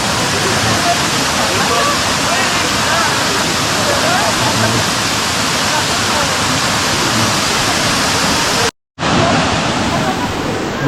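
A small waterfall in Martinique pours steadily in a loud, continuous broadband rush, with a brief dropout near the end before the roar resumes.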